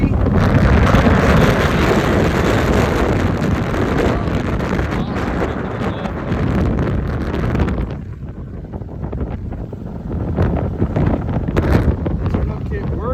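Golf cart cruising along a road outdoors, with a steady loud rumble of motor and tires mixed with heavy wind buffeting across the microphone.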